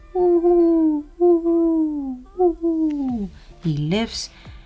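A human voice imitates an owl with a run of four or five drawn-out, close hoots, each sliding slightly downward, then a final rising, wavering hoot.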